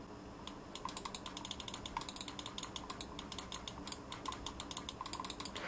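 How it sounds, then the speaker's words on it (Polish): Main switches of a Tt eSPORTS Ventus gaming mouse, a ventilated gaming mouse, clicking in a quick, steady series of sharp, light, close-up ticks with no voices. "Jeśli chodzi o przełączniki główne, to klikają one tak."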